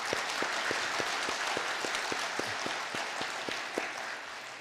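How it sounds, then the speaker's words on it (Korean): Congregation at a Korean Sunday church service clapping together, a rhythmic series of about a dozen unison claps over a broader background of applause, moderately distant. "우리 서로를 위해서 크게 박수 한번 하겠습니다"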